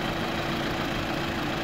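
A Lada Niva engine, bored out to about 1.8–2.1 litres, idles steadily with a dense low mechanical rumble, close and continuous with no talking.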